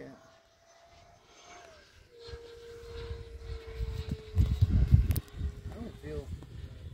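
A small airplane approaches overhead, its engine drone rising from faint to a louder, rough rumble that peaks near the end, with people talking now and then over it.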